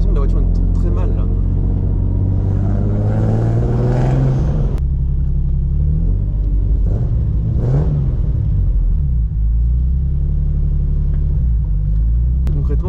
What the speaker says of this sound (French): je pensais qu'elle tournait mal, mais en fait elle tourne bien. C'est juste que ça vibre vraiment très bizarrement